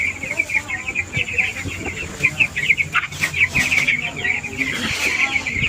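Young chickens, about thirteen days old, chirp and cluck busily on a small poultry farm, a dense continuous chatter of peeping close by, with a person talking quietly underneath.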